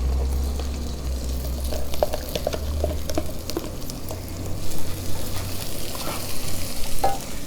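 Epazote leaves hit hot oil in a pan and fry with a steady, close sizzle, with light stirring and occasional crackles.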